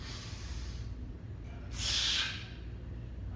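A single forceful breath exhaled during a barbell bench press, a close rushing hiss that swells and fades over about a second against a steady background.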